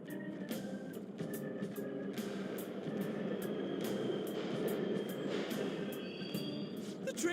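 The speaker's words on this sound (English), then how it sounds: "The trains are totally running!" Subway trains run through a station in the video game Persona 5 Royal, a continuous low rumble with faint rhythmic clacks and metallic squeals, heard without speech.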